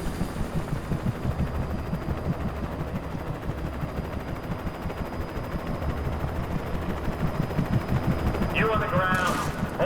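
Bursts of gunfire from the Alan Wake video game crackle repeatedly in rapid, machine-gun-like volleys, fairly loud, over a low rumbling background with some talk mixed in.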